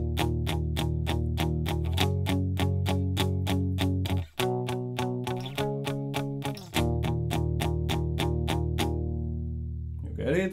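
Guitar plays the pre-chorus of a song as a tutorial demonstration, with steady repeated strummed chords across the whole stretch and a brief break midway, played alone without talk.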